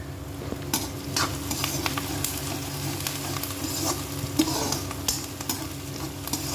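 Onions and green chillies sizzle in a pan for a bottle gourd curry, a dense, constant frying hiss with a low hum beneath and intermittent scraping strokes of stirring, close and steady with no voices.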